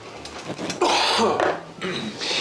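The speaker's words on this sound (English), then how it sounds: "The jalapeno pepper's making everybody cough in this house" A few harsh coughs and throat clearing up close, set off by jalapeno pepper during cooking, in quick bursts, with light kitchen clatter around them.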